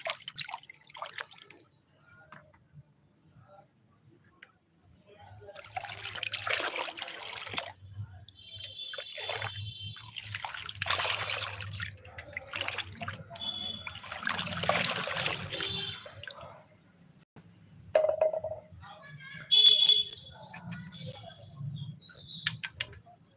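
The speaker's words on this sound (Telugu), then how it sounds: "ఈ మిగిలిన మిశ్రమం అనేది ఈ వాటర్లో మిక్స్ చేసేస్తున్నాను" A plant fertilizer mixture is stirred and sloshed into water in a container in short bursts, with soft drips and trickles between quieter pauses.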